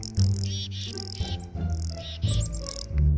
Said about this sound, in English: These unusual trills are referred to as a contact call, which is basically just an owl's way of saying hello.